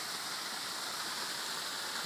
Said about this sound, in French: Et voici la cascade de Vauvenargues.